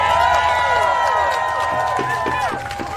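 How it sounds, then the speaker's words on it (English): A crowd at a Line 3 pipeline protest rally in St. Paul, Minnesota cheers and whoops loudly all at once, with voices rising over the noise and some clapping toward the end. "That's a big cheer for the word amicus"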